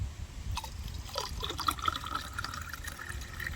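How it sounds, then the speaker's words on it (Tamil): Water pours steadily into a salted mixture, a close, continuous splashing trickle with a faint low rumble underneath. "தண்ணி ஊற்றிக்கலாம்."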